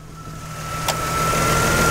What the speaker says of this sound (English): this is your engine, though. As you can hear, runs good.